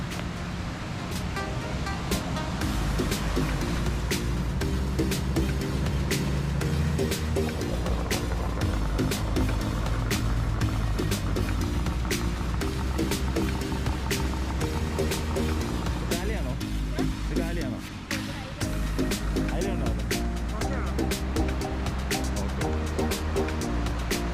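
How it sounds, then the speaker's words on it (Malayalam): Fishing boat engines rumble steadily as the boats come ashore on a beach, with waves washing in, while people talk loudly throughout. "2 ബോട്ടുകൾ കൂടി കരക്കടുത്തുകൊണ്ടിരിക്കുകയാണ്."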